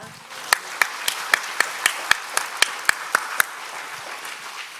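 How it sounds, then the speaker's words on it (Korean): A congregation claps during a Korean church service. The claps land in a steady, even beat of crisp strikes, with a soft murmur of room noise underneath. "하나님 아버지께 영광의 박수 올립니다"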